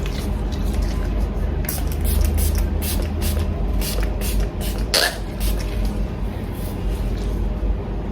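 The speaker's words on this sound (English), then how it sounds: "I'll go ahead and apply my heat protector and spray" Heat protector aerosol sprayed onto a curly pixie-cut wig in several quick hissing bursts, close by, over a steady low background rumble, with one brighter burst near the end.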